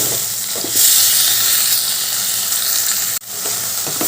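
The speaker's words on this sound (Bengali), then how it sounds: "এবার চিংড়ি মাছগুলো আমি একটু ভেজে নিচ্ছি চিংড়ি মাছ তো খুব বেশি ভাজার দরকার নেই হালকাভাবে ভাজলেই হয়ে যাবে" Prawns frying in mustard oil in a kadai give off a loud, close, steady sizzle that swells after the first second and drops out briefly just past three seconds before resuming; no one speaks.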